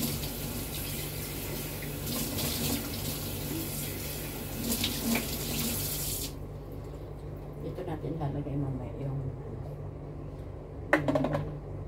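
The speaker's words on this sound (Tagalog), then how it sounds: "Maghugas na muna tayo ng kaldero." Running tap water splashes steadily into a sink as a pot is rinsed, then the flow cuts off, leaving soft clinks and scrapes.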